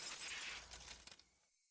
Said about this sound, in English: Unpleasant, piercing sound of shattered glass